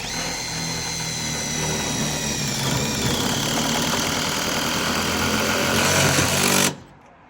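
A power driver sinks a self-tapping bolt into a commercial metal building gutter, a loud, steady, rattling whine lasting about six and a half seconds before it abruptly cuts off.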